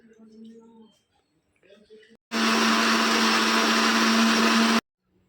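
Kitchen blender grinding almond gum with mint: brief talk at first, then the motor kicks in with a loud, steady high-pitched whir for a couple of seconds before cutting off abruptly.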